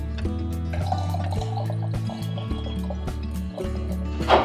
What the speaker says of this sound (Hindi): उसमें हम दूसरा पानी ऐड करेंगे। तो हम करीबन 2 गिलास जितना पानी ऐड करेंगे।